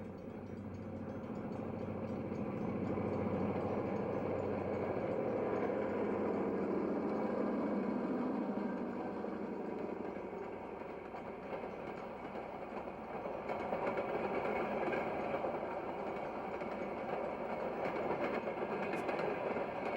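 A local train on the historic Wabash Railway rolls by just west of Romulus, a steady, loud rumble of wheels and engine that swells and holds across the whole stretch without fading.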